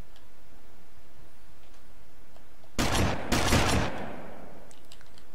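Gunfire in GTA Vice City comes as two sharp, loud bursts in quick succession, each a rapid rattle of shots standing alone against a quiet background.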